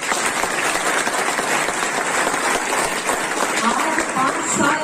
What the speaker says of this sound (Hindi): मैं जोरदार ताली चाहूंगा उस मैडम के लिए